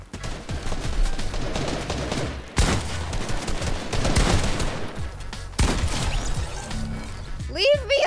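Rapid bursts of video game gunfire from Fortnite Save the World crackle in clusters with sharp cracks, fairly loud, while players talk over the shooting.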